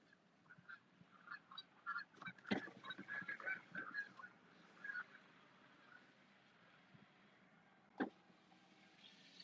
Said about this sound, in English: Which way are the geese flying?